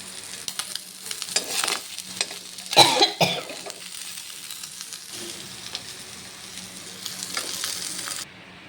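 Fish pieces lowered into hot oil in a kadai set off bursts of sizzling and spattering, with a sharp surge around the drop followed by a steadier, quieter fry; a cough is heard briefly.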